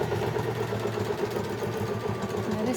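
A sewing machine stitches two layers of fabric for an eco shopping bag, a continuous close mechanical whir with a fast, even needle rhythm and no pauses.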